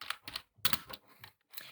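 Short bursts of keystrokes on a Mac keyboard while entering a note in the Reminders app, close and crisp, grouped into quick clusters separated by brief gaps.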